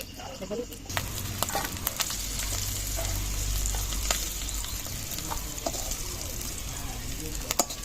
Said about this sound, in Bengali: তেলে আলুটাও ভেজে নেব